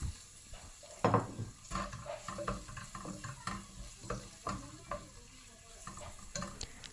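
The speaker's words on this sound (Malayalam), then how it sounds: "തക്കാളി സവോളയൊക്കെ നന്നായിട്ട് വഴന്നു വന്നിട്ടുണ്ട്" Onion and tomato sautéing in a pan for a fish curry, a soft steady sizzle with scraping stir strokes and a few clinks of a utensil against the pan, close and moderately quiet.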